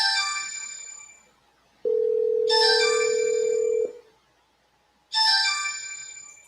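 A phone call's ringing tone sounds loud and clear, two bright melodic ring bursts with a long steady tone between them and a third ring starting at the end, no voices.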